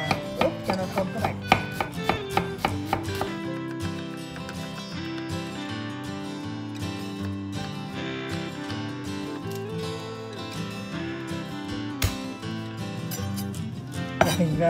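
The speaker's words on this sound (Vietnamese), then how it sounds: "Tiền sẽ sắc hai củ hành tím và Tiền cho vào ướp cho nó thơm các bạn." Two shallots sliced with a kitchen knife for a duck marinade, a quick burst of close, rapid cuts at the start that soon gives way to steady background music.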